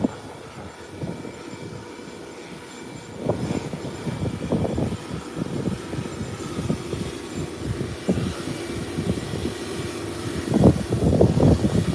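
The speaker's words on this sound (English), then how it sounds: "I am seeing the aircraft in the distance." An aircraft on a Kingston to Bridgetown flight approaches from far off as a broad, steady engine rumble. It grows gradually and swells louder toward the end.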